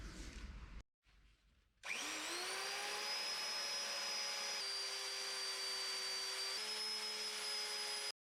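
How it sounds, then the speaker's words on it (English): A powered rotary tool grinding down a piece of alloy during rear brake line work, a loud steady high-pitched whine after a brief start-up, shifting pitch slightly as load changes. "to grind that bit of alloy down"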